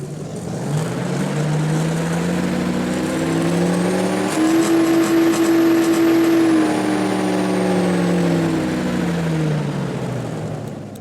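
A game car engine fitted with a forged supercharger revs on a dyno in Car Parking Multiplayer 2, a steady loud drone that climbs, holds a high whining pitch with supercharger whine on top, then eases back down.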